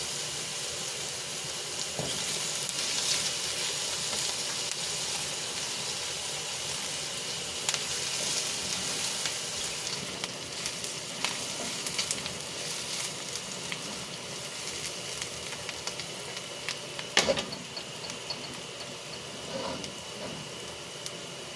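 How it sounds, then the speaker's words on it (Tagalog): Garlic fries in a pan for chop suey, a steady close sizzle with faint scraping as it is stirred and an occasional clink, continuous and even throughout. "sunod natin bawang guys. So haluin ulit natin guys."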